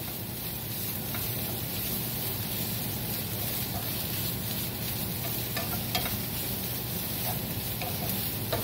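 Marlin with seasonings sizzles steadily in a hot pan as it is stirred, a continuous close hiss with faint scraping underneath.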